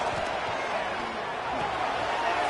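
Football stadium crowd at an Arizona vs Arizona State college game roaring steadily during a third down, a dense, sustained wall of cheering and noise with no break across the clip.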